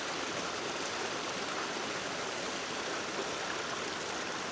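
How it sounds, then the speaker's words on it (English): Storm runoff water rushing down a damaged road after a storm, a steady broadband wash of flowing water, close and continuous with no breaks and no voices. "that's where part of the water is coming from, going down here and then follow its path."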